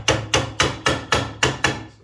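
Seven evenly spaced, sharp hammer blows drive wooden dowels into drilled holes in wood, each strike crisp and close with a short ringing decay.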